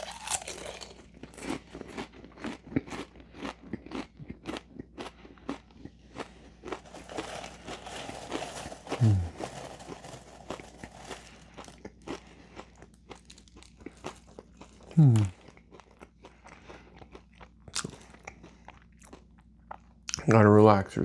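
Crunchy Butterbeer snacks are eaten up close, with rhythmic crunching bites and chewing plus crinkling of packaging. Short vocal sounds break in now and then.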